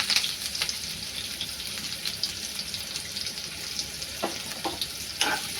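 Chopped onion sizzles steadily in a hot pan while a spoon stirs it, with a few sharper scraping clicks near the end; fairly quiet and close, no talk.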